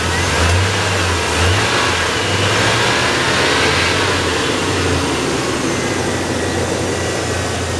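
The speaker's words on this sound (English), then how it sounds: "this is one of them engines that kind of knocks and rattles a little bit when it's cold" A cold Chevrolet Silverado engine runs close by, a loud continuous rumble with low pulsing and a slight uneven rattle, alone without voices.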